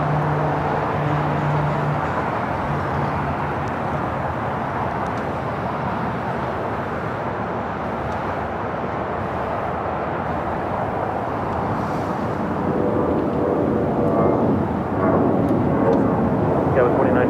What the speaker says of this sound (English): Next takeoff here on the south side is Viva Aerobus Flight 511 heading to Guadalajara.